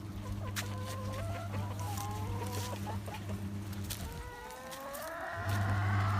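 About ten laying hens cluck steadily while being fed, their calls overlapping close by over a constant low hum that drops out briefly and then returns.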